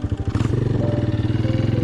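A fully restored, modified motorcycle with a handmade silencer idles close up, its engine thumping in a fast, even pulse with a slightly rough, misfiring edge.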